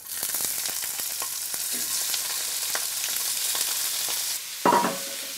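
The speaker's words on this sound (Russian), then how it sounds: "Масло нагрелось, чеснок бросаю, сразу же сюда отправляю сердечки." Chicken hearts and garlic sizzle and crackle steadily in hot oil, close up, with a brief louder burst of sizzling near the end.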